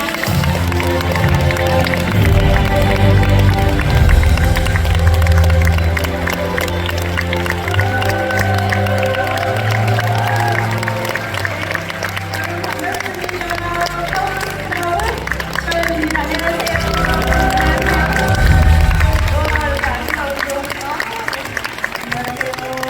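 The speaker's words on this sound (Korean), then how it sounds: "큰 박수 함으로 파운더스 크라운 심화영 리더님 모시겠습니다" Audience at a stage event applauds and cheers as a speaker is welcomed, sustained clapping under loud walk-on music with a strong beat, swelling near the start and again toward the end.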